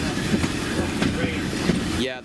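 Aboard a Kent and East Sussex Railway steam-hauled train on rough light-railway track, a continuous loud rumble with rhythmic clickety-clack of wheels over rail joints fills the carriage, ending abruptly.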